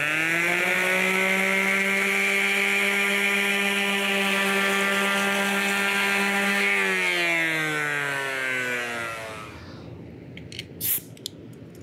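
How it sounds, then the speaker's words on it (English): An electric sander works painted, laser-engraved wood, a steady high motor whine that holds for several seconds, then winds down in pitch and stops, leaving quiet with a few faint clicks. "To clean that up, I'll use the sander one more time."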